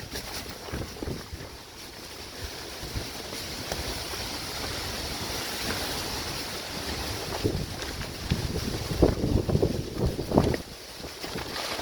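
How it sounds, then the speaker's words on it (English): Strong wind buffets and gusts against a tent, its fabric flapping and thumping in bursts as it is nearly flattened, loud rushing noise throughout and no voices. "Tent's getting nearly flattened out by the wind"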